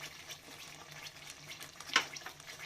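Green chilies go into a frying pan with a soft, quiet sizzle, marked by one brief scrape or clink partway through.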